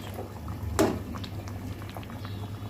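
Beef tripe in oil and a little water sizzles and crackles steadily in a pan, with a brief louder splatter burst near the start, close and moderately loud.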